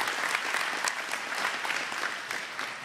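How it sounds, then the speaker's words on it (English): A church congregation applauding to welcome new members, dense sustained clapping from a large indoor crowd that carries on evenly for about three seconds with no speech over it. "by your applause, would you welcome Merrill and Hatsuko to our church family"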